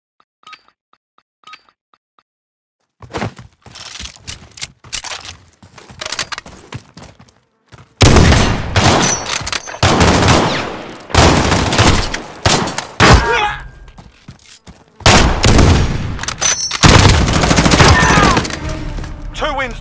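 Call of Duty: Modern Warfare co-op gunfire: quiet at first, then loud bursts of rapid automatic shots and heavy volleys in repeated waves, close and dense, with brief gaps between the salvos.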